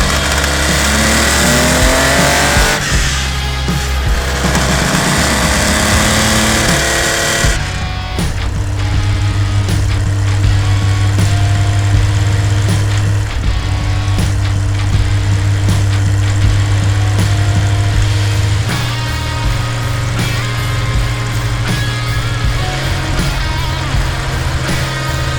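A 1973 Porsche 911 RSR tribute race car on Avon-style race tires, its engine revving hard at the start before settling into a steady, loud, close idle with a rough mechanical rumble that runs throughout.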